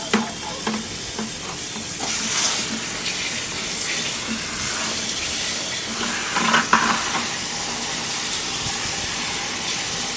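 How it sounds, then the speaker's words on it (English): Water pours steadily into a bucket of brine for smoking chicken while it is stirred, a continuous close splashing and swishing wash that runs throughout with no talking. "now we're going to just add some water"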